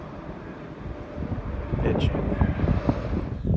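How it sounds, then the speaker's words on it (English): Gusty wind buffets the microphone with heavy low rumbling that swells and surges, partly covering a brief spoken word. "sorry it's windy again"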